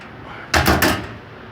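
A drawer on a new toolbox slides open or shut with a close, sharp metallic rumble in two quick pulses, then quiet.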